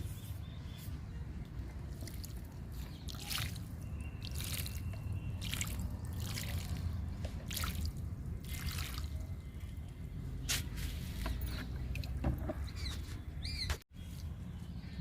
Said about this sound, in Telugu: కొలియాస్కి సింగోనియానికి వాటర్ ఇచ్చేద్దాము.